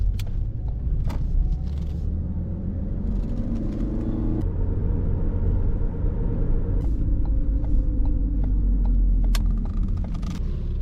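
An old, worn car drives along the road, heard from inside as a steady, loud engine and road rumble with faint clicks and rattles over roughly ten seconds and no talking.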